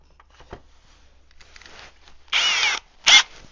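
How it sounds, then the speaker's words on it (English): After a few faint knocks and rustles, a power drill whirs loudly in one sustained burst while drilling a hole in a hard plastic box, then gives a second short burst. "So let's drill a hole in this box."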